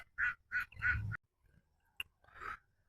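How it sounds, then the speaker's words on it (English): Ducks quack outdoors on a morning walk, three close, loud calls in quick succession, then a pause and a brief squawk before one more quack. "Hello there, duckies."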